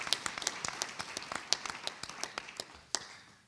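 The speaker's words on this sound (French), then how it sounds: "Je crois qu'on peut applaudir." Audience applause at a round-table on metropolitan health, heard as scattered, uneven hand claps from a small group, fairly quiet and close, thinning out toward the end.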